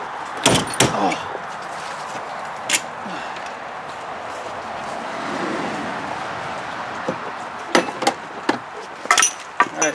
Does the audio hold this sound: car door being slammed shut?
yes